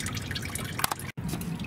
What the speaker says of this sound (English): So while you're waiting on the oil to finish draining